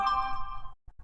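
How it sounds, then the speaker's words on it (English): A phone notification chime rings out, a short bright tone lasting well under a second, followed by two faint soft blips, close by and clear with nothing else around. "And that's my phone going off."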